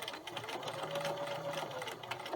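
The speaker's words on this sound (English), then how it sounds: "To sew the first side, edge stitch along the inside fold" A domestic sewing machine runs continuously at a steady pace, edge stitching a cloth napkin, its rapid needle chatter and motor whir close by and fairly quiet.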